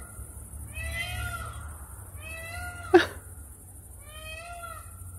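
Three drawn-out, meow-like calls from a bird, evenly spaced and fairly clear, with a single sharp click in between and faint background noise.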